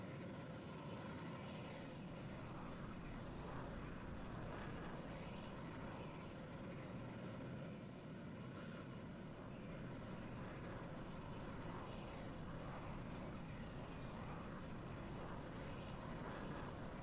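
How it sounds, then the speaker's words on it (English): Propeller airplane taxiing at an air show tattoo, a steady droning engine hum held continuously near and loud throughout, with no voices. "Alright, I'm taxiing out here."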